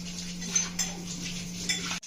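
Dishes being washed in a home kitchen, with steady running water under scattered clinks and clatters of utensils and pots, ending abruptly.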